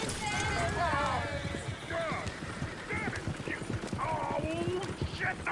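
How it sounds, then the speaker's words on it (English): Horses clip-clop in Red Dead Redemption 2, steady hoofbeats mixed with a whinny and game sounds while people talk over them throughout. "Oh, shit, the horses!"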